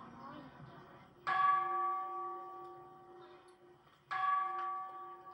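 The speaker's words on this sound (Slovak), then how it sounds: "Gong nám oznamuje začiatok vyučovania." A school gong rings twice to signal the start of lessons, each loud, bright bell-like strike sustaining a clear ringing tone that slowly decays, about three seconds apart, with faint background murmur before the first.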